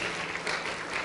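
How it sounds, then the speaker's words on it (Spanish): Congregation applauding in praise during a church service, a steady dense wash of clapping that holds evenly throughout the short moment with no pauses. "Denle un aplauso de alabanza a nuestro Señor."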